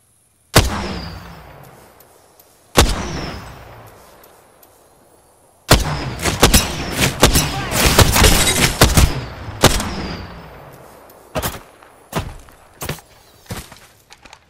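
Gunfire in a video game played as Bangalore: two sharp, loud single shots with echoing tails, then a long stretch of rapid automatic bursts, and after that a few more spaced shots, all close and forceful.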